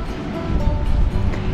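Ocean surf at the Bunda Cliffs in Australia makes a steady broad rumble with a slight swell, heard close and fairly loud with wind buffeting the microphone.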